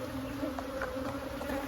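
Honey bees hum in a continuous, steady drone close by while a beekeeper inspects a hive holding a queen and several queen cells.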